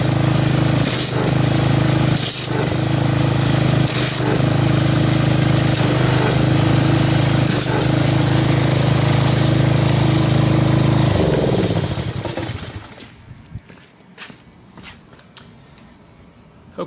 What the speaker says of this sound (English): let's go ahead and get our pressure washer, see what kind of foam we can get out of this